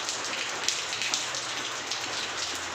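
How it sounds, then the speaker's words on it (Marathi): Steady unseasonal rain falling, a continuous broadband hiss of drops on surfaces with occasional brief louder patters, close and even throughout with no talking. "बेमोसम पाऊस चालू झालेला आहे"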